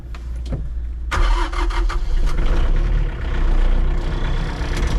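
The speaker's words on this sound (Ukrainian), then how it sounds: "Заводимо трактор." Mitsubishi MT226 tractor's engine cranks briefly, then catches and settles into a steady, rumbling idle heard up close, with no one speaking.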